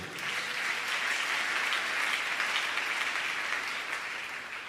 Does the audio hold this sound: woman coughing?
no